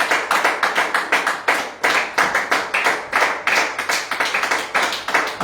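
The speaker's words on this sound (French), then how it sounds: "nous applaudissons le roi des rois" A church congregation claps in praise during a French-language service. Many hands beat together in a steady, rhythmic pattern of roughly three to four claps per second. The sound is close and full, with no talk over it.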